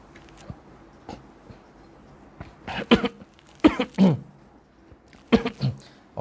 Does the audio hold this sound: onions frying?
no